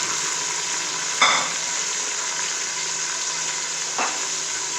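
Tomato and other ingredients fry in a pan with a steady, close sizzle, broken by a couple of sharp stirring clinks.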